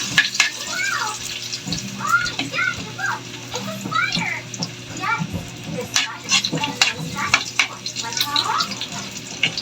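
Garlic frying in a pan for menudo, a soft crackling sizzle with scattered pops and stirring clatter running under a person talking throughout.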